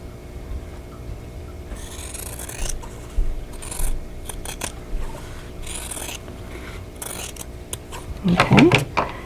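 Scissors cut sewn quilt fabric apart along a drawn line, making repeated rasping snips and rubbing scrapes, with a louder burst of cutting near the end.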